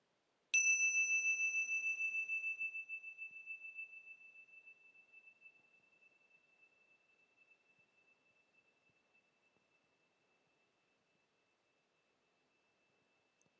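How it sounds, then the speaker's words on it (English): A single meditation bell is struck once, ringing with a clear, pure tone that sustains and slowly fades over about ten seconds into near silence, heard alone. "by sounding the bell, and the purpose of that is so that we notice the movement of the sound of the bell through time"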